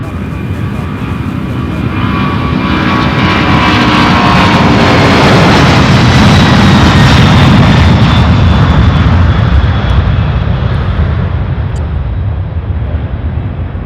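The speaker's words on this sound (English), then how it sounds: "So the one that just took off heading to San Antonio" A UPS heavy jet, a 767 or A300 class freighter, roars down the runway on takeoff, a loud continuous engine rumble and whine that swells toward the middle and slowly fades as it climbs away.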